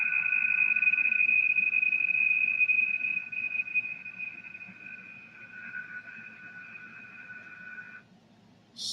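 A Russian digital FSK radio teletype number station on shortwave gives a steady two-tone warbling signal over hissy static, which cuts off near the end.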